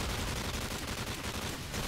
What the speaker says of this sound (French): il y a des tirs par là